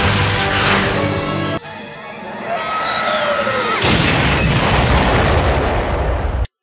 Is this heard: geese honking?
no